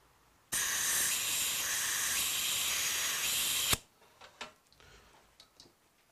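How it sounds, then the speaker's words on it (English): Compressed air from an air line blows through a nozzle port on a Suzuki GS1000 carburetor, a steady close hiss of about three seconds that stops sharply, followed by faint ticks and light handling clicks. "when you're blowing in there, you should be able to hear it moving through"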